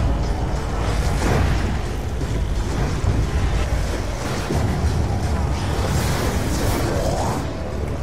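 An explosion in the Origins zombies map of Black Ops 2 roars as a sustained, loud, broadband rumble with rushing noise, holding steady over several seconds without speech.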